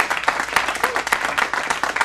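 Audience at a town hall applauding in a dense, steady burst of clapping across the whole moment, loud and close, with no one speaking over it.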